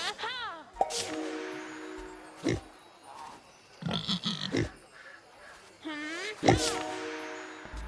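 A cartoon pig in The Plucky Squire video game gives several squealing oinks and grunts at intervals, mixed with game chimes and clanks while a person talks over it.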